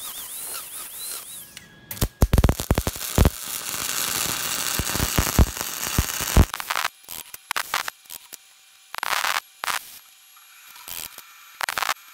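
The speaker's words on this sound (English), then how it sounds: "I'll use the wire feed welder because it's quick and easy." A wire feed welder welds a steel grab hook in crackling, sputtering bursts, starting dense and near, then breaking into shorter separate spurts with pauses between them, no talking.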